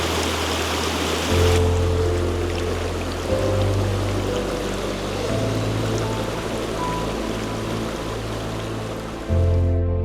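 River water flowing through Pirongia Forest Park in New Zealand, a constant loud rush of streaming water, with low steady tones shifting underneath.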